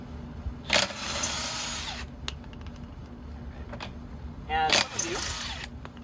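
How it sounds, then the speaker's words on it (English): Two short bursts of an impact driver spinning off the wheel nuts on a 10th-generation Honda Civic during a front brake job, the first near the start and the second toward the end, loud and close over a steady workshop hum. "if you do have an impact driver, you just take it, and you take out,"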